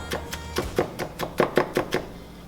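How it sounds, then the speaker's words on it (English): Food being roughly chopped for a chickpea salad, heard as about a dozen quick, even knife strikes against a cutting board, close and moderately loud. "just give them a rough chop"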